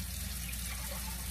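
Water running steadily into a cup to measure it for cooking jasmine rice, a continuous close splashing pour with no breaks or voices.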